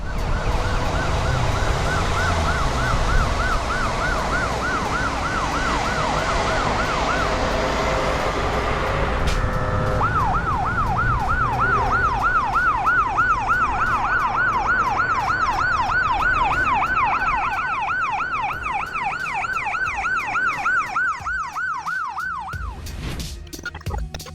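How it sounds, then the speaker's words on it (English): An ambulance siren wails in a steady repeating up-and-down sweep, loud and close, over a constant roar of road traffic, continuing almost the whole way before ending abruptly. "the ambulance has to move in the lane with the rest of the cars, even though the siren is on."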